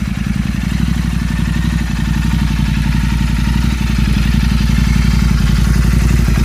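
A Royal Enfield Continental GT 650 with an S&S exhaust, reducers removed, idles steadily up close with a deep, even pulsing beat that stays constant throughout.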